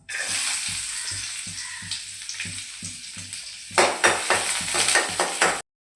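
Garlic frying in hot ghee for a broccoli and baby corn salad, a dense, bright crackling sizzle with soft rhythmic stirring taps underneath that swell louder and busier toward the end before cutting off abruptly.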